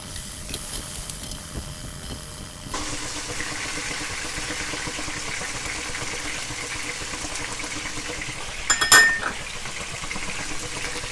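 Swordfish pieces sizzle in a hot pan, a soft steady hiss that rises after a few seconds, with a brief clatter of metal utensils near the end and no voices.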